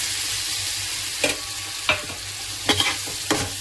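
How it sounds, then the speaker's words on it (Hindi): Potatoes sizzling in a pan with roasted tomato and onion, a steady fry hiss under a few scraping stirs of a spoon, close and alone. "आलू को फ्राई करेंगे।"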